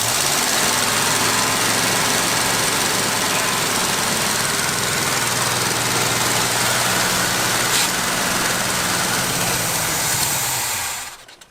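An old GMC truck engine idles with a steady low rumble and rattle, continuous and close, before it cuts out at the end.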